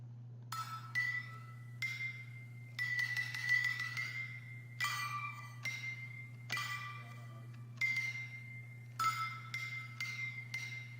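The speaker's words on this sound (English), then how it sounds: "next we have flow bell" A synthesized bell preset called flow bell from the Storch VST rings out in a pattern of repeated bright, glassy notes, each swelling in with a long reverse-reverb sweep, over a low steady hum.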